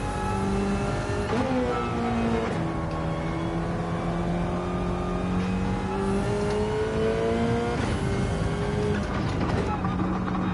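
A BMW M6 in Gran Turismo 7 revs hard through the gears, its engine pitch rising steadily and dropping at each shift. The engine stays loud and close, with talk over it.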